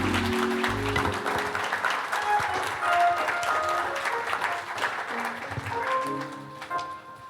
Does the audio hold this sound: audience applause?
yes